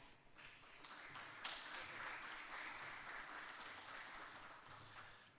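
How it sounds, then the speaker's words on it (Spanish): Steady applause from a conference panel audience, a dense wash of clapping that holds at an even level for several seconds with no break. "Recibimos con un aplauso a quien moderará este panel, Carlos Bedoya Recio."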